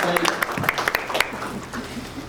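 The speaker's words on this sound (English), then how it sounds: "Give her a round of applause." Audience applause and cheering at a live special effects stage show at a theme park, a burst of clapping that swells and then fades over about two seconds, mixed with crowd noise and some talking.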